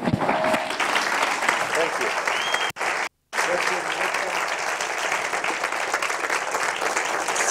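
A seated audience at a public lecture breaks into loud, sustained applause that fills the room, with a brief cut partway through before the clapping carries on steadily.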